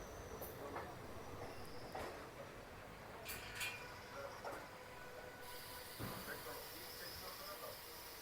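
A passenger train runs on the Shoranur–Nilambur line as it nears Angadipuram station, with steady rolling rumble, periodic wheel clacks and brief high squeals, and faint voices in the background.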